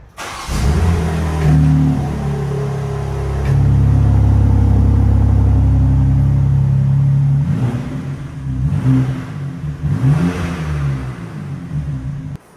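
A 2023 BMW M2 engine cranks and starts, then idles with a deep rumble and is revved several times in rising and falling bursts, close and loud, with no talking.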